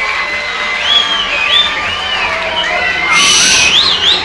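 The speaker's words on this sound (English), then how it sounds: "A round of applause for them." Children at a Chanukah rally cheer and shout together, a steady wash of young voices with rising whoops and shrill calls swelling louder near the end; clapping is not clearly separable.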